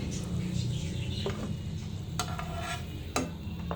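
A bread, cheese and egg sandwich fries in a pan with a soft, steady sizzle, and a utensil lightly taps and pushes it a couple of times; no one speaks.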